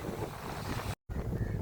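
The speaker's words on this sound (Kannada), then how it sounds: "ಬಿಸಿಲಿಗೆ ಒಳ್ಳೆ ಗಾಳಿ ಬರ್ತುಂಡು ಮಾತ್ರ" Wind at a sunny beach in Pondicherry buffets the microphone in a steady rushing roar, broken by a brief silent gap, with no voices.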